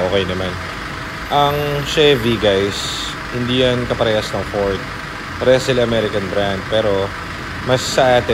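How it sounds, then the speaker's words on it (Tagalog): A 2015 Chevrolet Trailblazer with an automatic diesel engine idles with a low, steady rumble, mostly buried under someone talking close by. "Siyempre, important, engine tunog."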